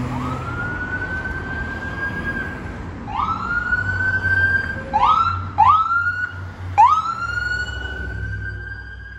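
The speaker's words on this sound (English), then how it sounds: "So about this area, there's a lot of ambulances." Ambulance sirens wail in a street area, one long rising tone followed by several overlapping yelping sweeps, loud and close, over a low engine rumble.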